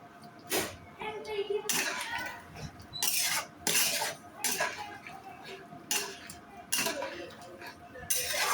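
A metal spoon scrapes and clinks against a pot of chicken curry in repeated stirring strokes, close by, with speech and faint background voices between the knocks.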